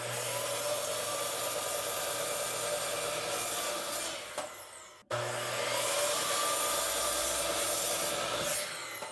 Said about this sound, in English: I'm going to trim up on both ends just to square it up, to make sure it's squared up